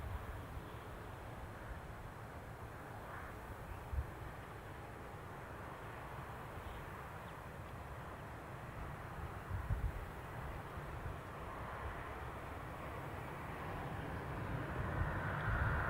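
An EasyJet airliner departing Newcastle Airport for Belfast, a distant, faint jet roar that holds steady and slowly swells louder toward the end.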